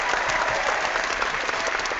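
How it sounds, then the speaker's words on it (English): An audience applauds at the close of an event, a dense, steady wash of many hands clapping that holds at an even, fairly loud level from start to finish with no talking. "Give yourself a round of applause now, Zane"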